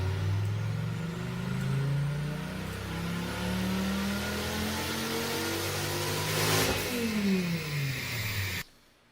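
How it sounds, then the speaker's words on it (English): A stock Gen 5 Dodge Viper V10 revs hard on a dyno, its loud, close engine note climbing steadily in pitch before cutting off abruptly near the end. "Stock Gen 5 Viper horsepower dyno."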